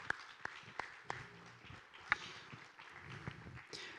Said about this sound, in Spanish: Como un aplauso